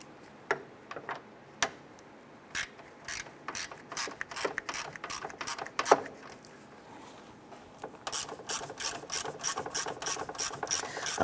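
A ratchet clicks in quick bursts while driving two 10mm screws that secure a cooling fan against the radiator of a 2007-2012 Nissan Versa, the pawl ticking in short runs with pauses, then a denser stretch of rapid clicking near the end.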